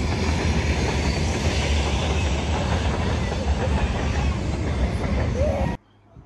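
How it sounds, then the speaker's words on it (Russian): Train passing on the Tbilisi-Batumi railway line, a loud steady rumble and rolling clatter of wagons heard from a hillside, continuous for about six seconds before cutting off abruptly. "Поезд едет какой-то."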